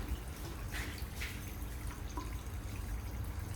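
Diesel fuel dripping from a Kubota L2050 tractor fuel filter into a bucket, a few light irregular drips over a steady low background hum, close by with no talking.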